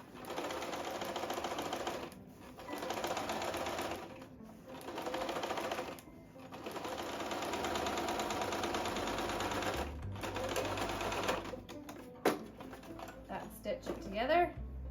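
Domestic sewing machine running a straight stitch up a tunic side seam made from a flat twin sheet, two layers of fabric, in steady loud bursts with short pauses between, a motor whirring and needle chattering, with a voice talking over parts.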